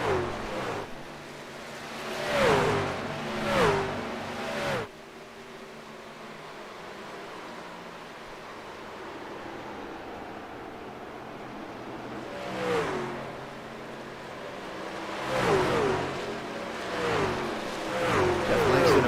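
Race trucks lap a circuit during a truck series race, engines swelling and fading as they pass, with two bursts of passing engine noise at the start and end and a steady mechanical drone between them.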